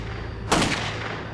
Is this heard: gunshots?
yes